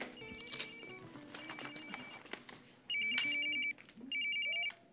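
Mobile phone ringing indoors with two clear bursts of an electronic ringtone near the end, preceded by faint clip-clop and assorted background sounds.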